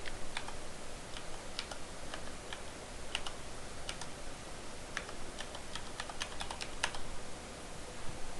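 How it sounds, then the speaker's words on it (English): Steady, fairly quiet clicking of fingers typing on a computer keyboard during setup of Active Directory 2008 in a virtual lab, with irregular sharper keystrokes scattered through the run. "you are typing all of the appropriate characters"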